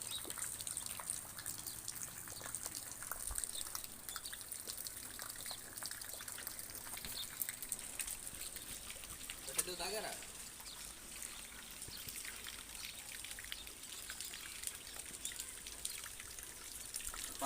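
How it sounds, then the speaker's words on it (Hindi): Faint rainwater trickles and drips steadily in a village after heavy rain, a soft continuous watery patter with scattered drops throughout and no loud events. "ये देखें बारिश बहुत आई है।"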